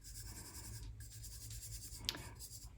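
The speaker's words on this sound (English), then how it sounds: "now I'm going to actually give this burnishing a shot" Colored solar dust is burnished onto a card using the tack it method, giving a soft, steady rubbing scratch close by and very quiet, with one brief brighter scrape near the end.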